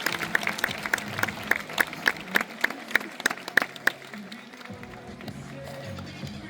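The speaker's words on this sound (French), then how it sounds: "Et je pense qu'on peut applaudir très fort Holo et le remercier pour sa participation." Audience applause at a California sea lion feeding show at Zoo de La Flèche: sharp, evenly spaced claps ring out clearly for about four seconds, then give way to a softer murmur of crowd and background noise.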